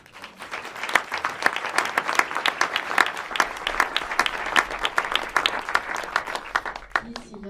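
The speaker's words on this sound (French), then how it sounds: "Je vois devant nous Gilles Séralini, qu'on peut applaudir peut-être." Audience at a French panel debate on lobbies and pesticides breaks into sustained applause, dense clapping from a large crowd holding steady throughout before trailing off at the end.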